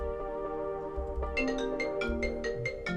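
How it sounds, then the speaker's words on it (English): A phone ringtone from an incoming call plays over music with a delay effect in Ableton, its repeated bright tones pulsing steadily across the whole stretch, close and fairly loud alongside the musical bed. "oh, I'm getting a phone call here"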